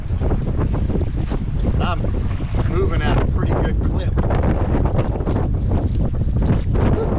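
Steady, heavy wind roars across a lake while boating, with microphone buffeting and someone speaking over the constant gusts.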